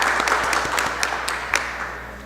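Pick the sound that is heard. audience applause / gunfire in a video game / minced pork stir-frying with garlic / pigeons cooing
audience applause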